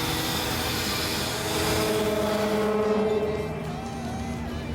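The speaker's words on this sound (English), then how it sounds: "the air coming off the blower can be up to 350 degrees." A truck-mounted air blower unloading a trailer roars steadily and loudly with a broad rushing whine that runs the whole time, shifting slightly in pitch partway through.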